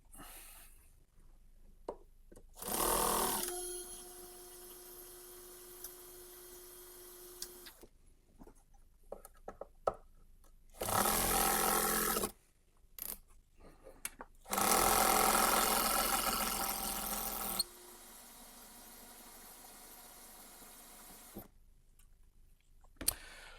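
An electric drill drives screws into a guitar amplifier in several loud bursts of a few seconds each, with quieter handling and clicking noises in between.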